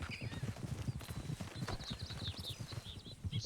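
A horse in the Red Dead Redemption 2 video game walks with a steady, close clip-clop of hooves, joined by faint higher calls, with no talking.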